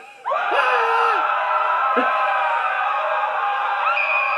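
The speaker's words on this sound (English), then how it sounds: "I love how that one guy screams like a girl." A man screams in a video game parody, a loud, sustained, high-pitched cry that starts abruptly and holds for several seconds, with other voices overlapping.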